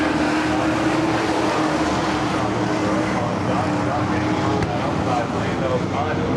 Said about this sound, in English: They race side by side down into turn number 3.